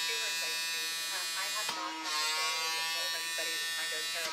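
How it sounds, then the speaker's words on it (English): A handheld pore vacuum buzzes steadily against a face, its strong harmonic drone running throughout with a brief dip partway, while someone talks over it. "That's what it looks like a vacuum. Listen to it."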